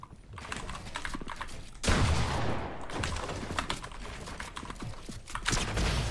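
Rapid bursts of gunfire in Fortnite, with a loud impact blast partway through followed by a steady stream of close shots over busy game noise.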